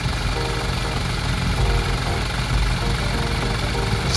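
A tour bus diesel engine with a Hino J05C runs steadily, heard from inside the cabin as a loud, constant low rumble and vibration, with faint voices underneath.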